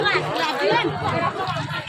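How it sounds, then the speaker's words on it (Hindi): Dense crowd at a village fair in Darbhanga, Bihar, for Narak Nivaran Chaturdashi, a steady close babble of many overlapping voices with no single speaker standing out. "तो गाइज अहाँ सब देख रहल छै कते के भीड़ लाग रहल छै"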